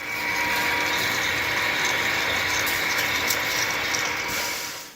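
A hydraulic press crushing a bolt in a thread-strength test gives off a steady, loud mechanical whir with a ratcheting, grinding texture that runs unbroken for the whole stretch and eases off at the very end.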